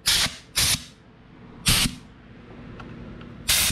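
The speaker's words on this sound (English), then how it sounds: "Then you take your compressed air and then you blow out the bearings" Compressed air blasts clean RC car bearings in four sharp hissing bursts, each about a quarter second long and irregularly spaced, loud and close, with faint clicks between them and no talking.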